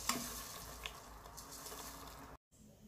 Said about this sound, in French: Je rajoute mes lentilles.